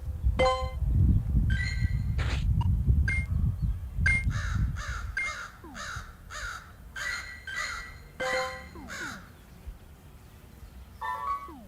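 Several crows caw repeatedly in harsh bursts, some near and some farther off, over a low rumbling background that fades after a few seconds.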